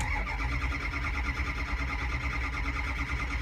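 A vehicle engine being cranked over during a diagnostic check of oil pressure, a continuous close mechanical churning drone that holds steady throughout with no voices.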